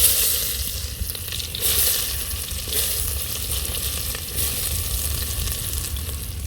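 Onion frying in hot oil for masala Maggi, a steady close sizzle with soft stirring texture, continuous throughout with no talking.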